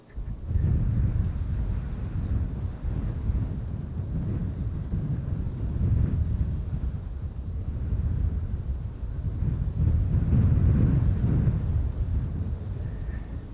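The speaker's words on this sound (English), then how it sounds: "Meanwhile, the wind is definitely not slowing down here." Strong wind roars and buffets the microphone at Schiphol airport, a loud, continuous low rumble that swells and eases in gusts for the whole stretch, with no voices.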